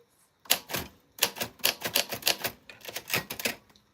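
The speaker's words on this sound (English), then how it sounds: "This is my primary typewriter" A vintage typewriter clacks loudly and close in quick, uneven bursts of sharp key strikes after a short pause, with no voices.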